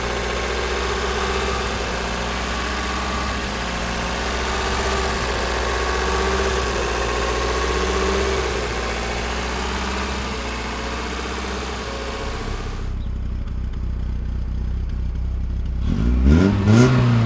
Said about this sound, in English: let's listen to this baby hum